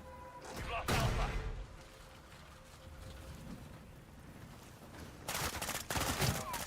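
Gunfire in a video game shooter, with loud bursts of shots at the start and again near the end, separated by a quieter stretch of ambient noise, a steady tone and faint voices.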